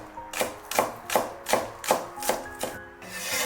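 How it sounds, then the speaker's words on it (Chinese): A knife mincing scallion whites on a cutting board, about eight steady, evenly spaced chops, close and clear. "先把葱白切成葱末"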